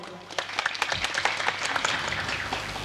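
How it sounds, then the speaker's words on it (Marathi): Audience applause at a kirtan, a crowd clapping in a dense patter with a few sharper individual claps standing out, steady and moderately loud throughout, with a low hum underneath. "त्यांच्यासाठी एकदा सर्वांनी टाळ्या वाजवा."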